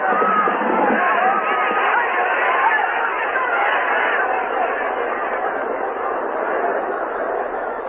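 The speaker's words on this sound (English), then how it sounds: "The crowd cried out in fury." An angry crowd roars and shouts together in fury as a sound effect in an audio drama, a dense, loud wall of massed voices that holds steady and then eases slightly toward the end.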